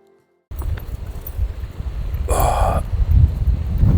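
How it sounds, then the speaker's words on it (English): Strong wind buffets the microphone at a wild camping spot in Abisko, in Sweden's far north, a loud continuous low rumble with gusts that swell toward the end, plus a brief brighter rustle partway through. "It's much more windy today"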